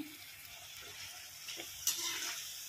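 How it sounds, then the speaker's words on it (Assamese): Papad fried in hot oil in a home kitchen gives a soft crackling sizzle with a few sharper spits near the end. It stays fairly quiet, with no speech. "এতিয়া মই সেইখিনি তেলতে পাপৰখিনি ভাজি ল'ম"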